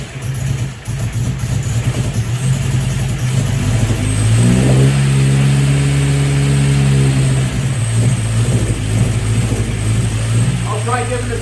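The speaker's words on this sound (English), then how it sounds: "I'll try giving it some show." A 1954 MG TF four-cylinder engine idles nearby, then revs up in a long, swelling rise and falls back, followed by a second shorter rev, loud and close with some voices around.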